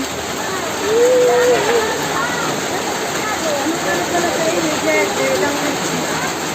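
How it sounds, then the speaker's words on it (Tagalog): Heavy rain pours in a steady, dense hiss during flooding, with faint voices talking and calling beneath the downpour. "Ang lakas ng ulan."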